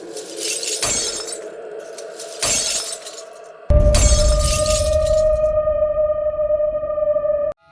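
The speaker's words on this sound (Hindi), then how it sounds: "शीशे एक एक करके टूटने लगे।" Glass mirrors shatter one after another inside a collapsing fairground tent: two sharp crashes, then a long loud burst of breaking glass that rings into a sustained metallic tone before cutting off.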